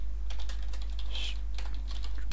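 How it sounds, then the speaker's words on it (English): Fast typing on a computer keyboard, close and clear, with a quick irregular run of key clicks over a steady low electrical hum. "Sorry for my typing again."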